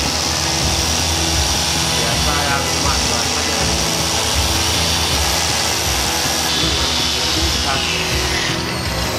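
A polishing machine runs steadily and loudly on a Suzuki APV during full car detailing, a constant whirring drone that fills the whole stretch while people talk underneath it.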